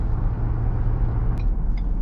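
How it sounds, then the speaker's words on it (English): Ford Ranger Lariat SuperCrew (2019-2022) with the EcoBoost turbo engine, a steady low rumble while driving, heard from inside the cab, with two brief high-pitched chirps near the end. "That's just the EcoBoost sound."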